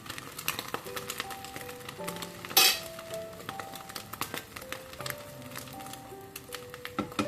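A salami puff-pastry omelette cooks in a pan with a steady soft sizzle, broken by a sharp metallic clack partway through, while background music with sustained tones plays throughout.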